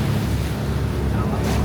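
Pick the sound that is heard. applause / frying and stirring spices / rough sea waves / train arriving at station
rough sea waves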